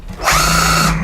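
A cordless impact driver spins up for about a second while fastening storm screens, a loud, close, steady whirring burst.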